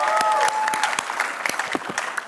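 Studio audience applause on the Family 100 game show, a dense, steady clatter of many hands clapping for about two seconds, loud at first and thinning slightly toward the end.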